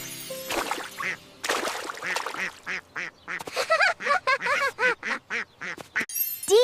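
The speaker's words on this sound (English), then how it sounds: "D for duck." A duck quacks repeatedly in quick, uneven bursts, close and fairly loud, the calls getting denser toward the end.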